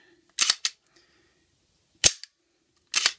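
A Diamondback DB9FS full-size 9mm handgun having its slide racked and released, heard as three sharp, close metallic clacks spaced apart in an otherwise quiet room.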